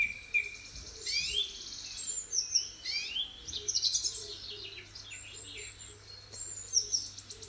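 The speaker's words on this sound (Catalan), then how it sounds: "Era el guacamai." Chirpy jungle birdsong as a story sound effect, meant as a macaw: bright, repeated high tweets and calls at moderate distance over a quiet insect-like background, with no voices.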